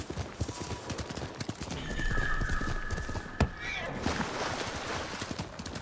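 Horse hooves clip-clopping steadily in the video game Ghost of Tsushima, with a whinny partway through, set against ambient game sound and some talk.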